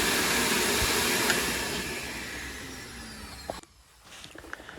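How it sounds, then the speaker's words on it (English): A steady, loud vacuum roar with a hissing airflow, hoovering a dirty car boot, drones on, then cuts out abruptly near the end, leaving a few faint knocks and clatters. "while you're hoovering the car"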